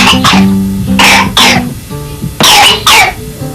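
A child coughs in a series of harsh, close bursts, about six coughs in uneven pairs with brief pauses, loud and alone, with throat-clearing rasp.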